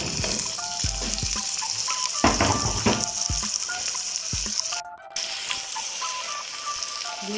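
Tomatoes frying in ginger garlic paste for tandoori chicken masala: a steady close sizzle and crackle, with occasional stirring clatter and scraping against the pan, no talking.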